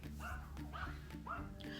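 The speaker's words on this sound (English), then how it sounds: "I'm sorry if you can hear my dogs barking" Small dogs barking and yipping indoors at a home, several sharp barks in quick succession with whimpering tones between them, moderately near.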